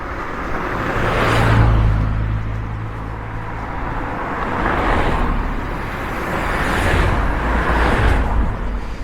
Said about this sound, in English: the blue car's only just getting over the bridge now